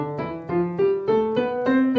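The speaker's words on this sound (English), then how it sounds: "So I'm going to play my left hand legato and my right hand staccato." Piano scale played with the left hand legato and the right hand staccato, a steady rising run of notes with sustained low tones under short detached upper notes, close and alone.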